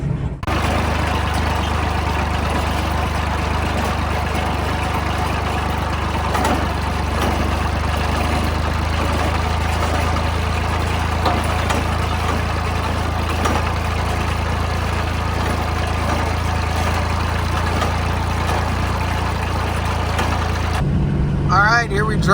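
Kubota L-245DT tractor engine running steadily at close range, a continuous low diesel drone with a faint rattle throughout, ending in a brief shift of tone.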